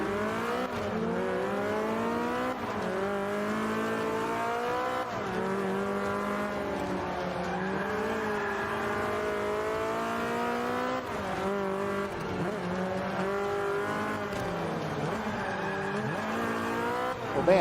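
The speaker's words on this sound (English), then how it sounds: "Oh man, I'm drifting." Forza Motorsport 5 race car drifting, with engine drone rising and falling under a steady screech of squealing tires, loud and continuous throughout with no talking.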